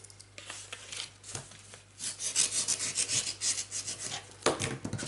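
A sheet of paper is folded in half and creased for origami, giving soft rubbing and rasping strokes, close and quiet, with a sharper crease at the end.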